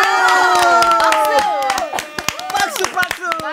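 Guests and hosts clap in sharp, rhythmic bursts in a KBS radio studio, while loud, lively voices chant and shout over the claps, which grow sparser and more scattered toward the end.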